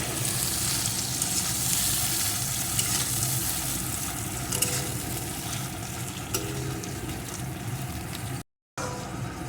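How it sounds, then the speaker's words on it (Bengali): Helencha greens with salt fry in hot oil, giving a dense, steady sizzle with occasional stirring scrapes, close and fairly loud, with a brief dropout near the end. "এখন এই শাকটাকে একটু ভেজে নেব"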